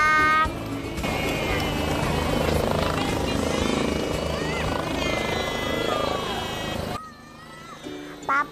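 Helicopter at an air force base, a loud, steady rotor and turbine drone close by, with people talking over it before it cuts out near the end.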